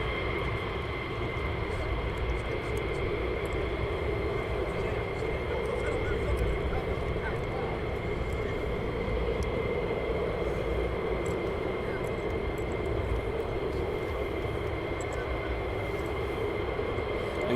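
F-15 fighter jet at RAF Lakenheath idles on the ground with a steady, loud engine roar and whine throughout, unbroken and close.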